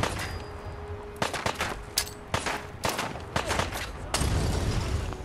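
Gunfire in the game Fallout 4 Far Harbor cracks out in repeated sharp bursts and single shots, some rapid like automatic fire, punctuated by short gaps over a constant background of game noise.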